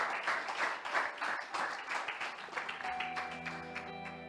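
A church congregation standing for prayer claps for the Lord, a moderate burst of many hands that fades after a few seconds as a sustained organ or keyboard tone enters underneath.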